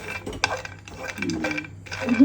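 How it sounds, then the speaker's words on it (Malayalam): A spoon scrapes and clinks against a pan while peanuts are stirred in hot ghee, a faint sizzle underneath, the clatter uneven and close. "ഇത് ഇളക്കി കൊടുക്കണം കേട്ടോ സിമ്മിലിട്ടേക്കണം"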